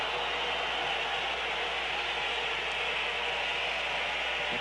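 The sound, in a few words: football crowd whistling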